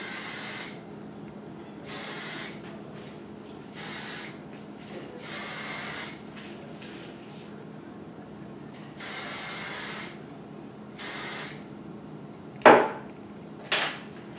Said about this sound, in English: I'm going to stick my comb in and lift it up and spray it.